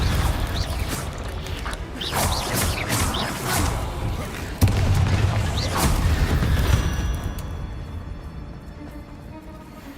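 Confringo fire spells blasting repeatedly in the Hogwarts Legacy video game, a dense run of booming, crackling impacts with a heavier thud midway, fading toward the end.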